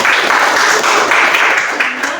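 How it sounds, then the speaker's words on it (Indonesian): A classroom group claps for team Galilea, dense steady applause from many hands filling the whole moment. "Tepuk tangan untuk kelompok Galilea."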